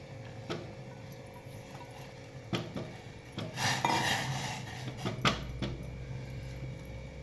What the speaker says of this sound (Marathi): हे बघा इथं पाणी पण आपलं उकळलेलं आहे आपण ह्याच्यात आता ह्या शेवया घालून घेऊया